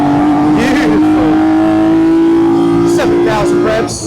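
A 1972 BMW CSL race car engine revs hard on track, a loud close tone climbing steadily through the gears with a brief dip at a shift, while a voice speaks over it.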